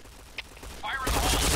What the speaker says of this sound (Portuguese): Um monte de tiro na cara aí, ó.